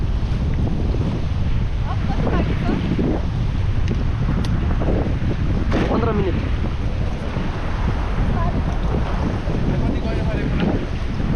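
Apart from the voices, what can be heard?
Trishuli river water rushing during rafting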